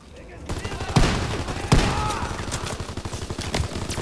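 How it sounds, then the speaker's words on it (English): Shotgun and rifle fire in the World War II shooter Call of Duty: WW2, with two loud blasts standing out over a steady, dense backdrop of battlefield gunfire and rumble, and a voice briefly speaking over it. "Sure, the shotgun does wonders."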